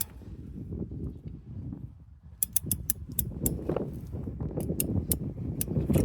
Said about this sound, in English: So again, this is just a simple fence tensioner.